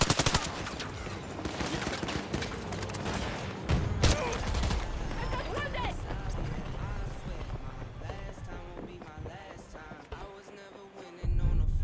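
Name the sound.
suppressed assault rifle gunfire in Battlefield 2042 video game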